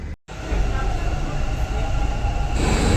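A Bangalore metro train near Madavara station rumbles steadily close by, a continuous low roar after a brief dropout at the start, with a voice talking over it.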